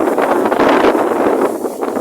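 Strong gusting wind roars steadily and loudly in Sai Yok district, Kanchanaburi, on a cool, drizzly day, with broad buffeting noise swelling and easing across the moment and no voices.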